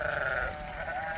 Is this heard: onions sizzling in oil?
no